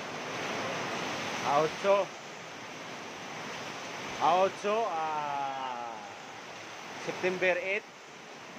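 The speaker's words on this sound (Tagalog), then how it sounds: "Lakas ng hangin dito sa Batangas." Strong typhoon wind in Batangas roars as a constant broad rush into the microphone, sustained and loud throughout, with people speaking briefly in short bursts over it.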